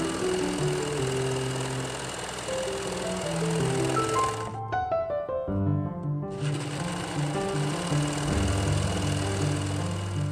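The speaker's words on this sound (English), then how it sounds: "now I'm going to serge all of my edges" A serger overlock machine finishes the fabric edges of an Edwardian ribbon-strap chemise, running in a loud steady whirring stitch for the whole stretch with a brief pause in the middle.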